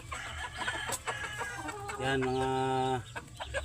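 Chickens clucking and crowing nearby, with a sustained harmonic call in the middle, over someone talking briefly.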